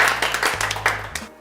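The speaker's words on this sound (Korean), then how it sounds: "일단 박수 한번 칠까요?" A few people clap briefly in an interview room at a Korean academy for a medical school entrant, a quick patter of hands over a steady low hum that fades out after a second.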